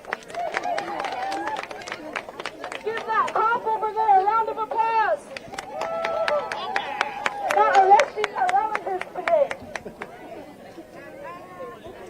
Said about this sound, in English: Let's give all of our speakers and our organizers a round of applause.